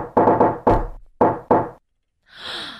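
Several loud knocks on a door in quick bursts, three rapid raps, then single knocks, followed by a brief pause and a faint higher-pitched noise.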